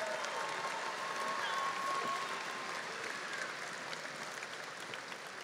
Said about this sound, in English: Let's honor these graduates with a big round of applause